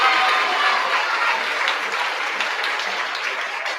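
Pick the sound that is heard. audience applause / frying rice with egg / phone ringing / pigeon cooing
audience applause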